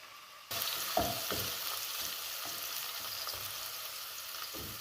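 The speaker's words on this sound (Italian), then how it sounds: "La lasciamo soffriggere per 2 minuti." Oil sizzles and crackles steadily in a pan, sautéing the base for an asparagus risotto, after a sudden start, with occasional scraping stirs, close and fairly loud.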